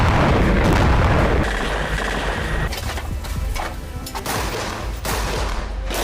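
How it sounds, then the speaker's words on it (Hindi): Israeli bombardment strikes northern Gaza, with heavy booms and rumbling blasts followed by rapid bursts and crackling pops of gunfire, loud and dense at first, then sharper scattered cracks over a low rumble. "इजरायली सेना ने उत्तरी गाजा में भीषण बमबारी की।"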